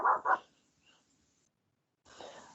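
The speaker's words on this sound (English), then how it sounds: "Sorry for all the barking, but I'm sure it might be keeping everybody awake." A dog barks twice in quick succession nearby, followed by a pause and then a softer huffing, snuffling sound.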